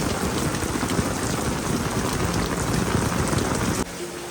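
Steady, dense rainfall during the monsoon season near a village home, a continuous close wash of drops hitting surfaces that drops slightly softer near the end.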